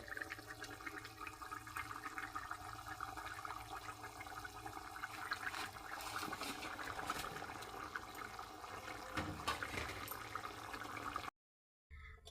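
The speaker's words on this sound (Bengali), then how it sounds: "এখন আমি ভেজে রাখা মাছগুলো দিয়ে দেবো" Fried rohu fish pieces go into a simmering potato and cauliflower gravy, giving a steady wet bubbling and splashing that runs unbroken, then stops briefly near the end. No one speaks.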